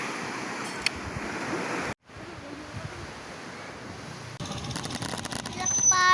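Rough ocean surf at high tide roars continuously, a broad steady wash of breaking waves with wind buffeting the microphone, briefly cut off once and then growing louder toward the end.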